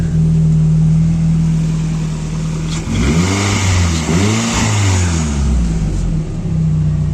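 A car engine idles steadily, then revs up and down in two rising and falling sweeps before settling back to a loud, close idle, with no talk over it.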